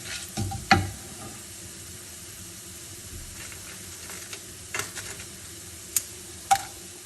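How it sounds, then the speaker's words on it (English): Cumin and methi seeds sautéing in a pan give a faint, steady sizzle with a few sharp clinks and scrapes of a spoon stirring, fairly quiet and close with no talking. "Saute really well."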